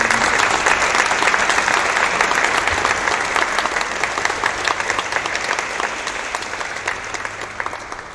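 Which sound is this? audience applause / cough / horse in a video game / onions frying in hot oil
audience applause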